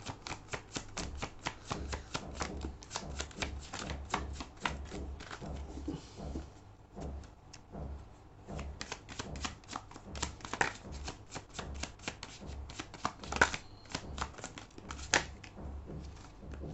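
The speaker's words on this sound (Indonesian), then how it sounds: "Aku akan coba ambil 5 kartu lagi ya." Tarot cards are shuffled and drawn in quick crisp riffles and slaps, a dense run of papery flicks close to the listener with no talking.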